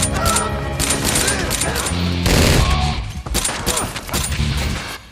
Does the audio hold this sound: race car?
no